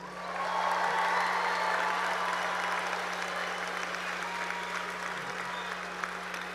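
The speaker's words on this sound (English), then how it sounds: "let's get another round of applause for our graduates" Audience gives another round of applause for graduates at a 2025 high school graduation ceremony, a wide, steady roar of clapping from a large crowd, distant and continuous over a low electrical hum.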